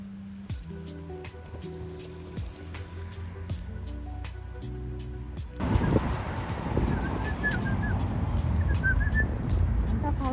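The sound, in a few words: person whistling imitating birds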